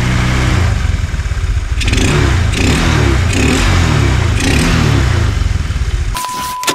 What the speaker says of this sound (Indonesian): Nah sekarang udah normal kalau saya gas pelan-pelan kayak gini, nggak nut-nutan lagi, nggak ngok lagi.